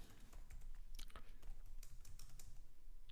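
Code is typed on a computer keyboard in quick, irregular bursts of close, crisp key clicks, fairly quiet and with no talking.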